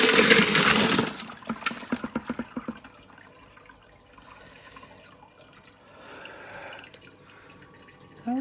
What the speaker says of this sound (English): Here we are emptying the barrel after stage 3.